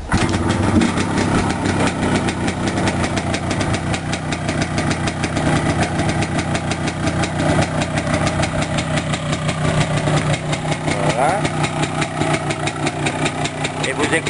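A cold motorcycle engine idles just after starting, a steady, close, rhythmic thumping that continues evenly throughout.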